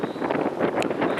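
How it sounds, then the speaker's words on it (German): Wind buffets an outdoor microphone in a steady, loud, rumbling wash, with rainy, gusty weather and no talking. "Windig ist es auch, man hört es ja sicherlich."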